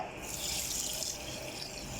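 Water poured from a container into a pan holding sugar, a steady close rushing splash that continues without a break for the whole stretch.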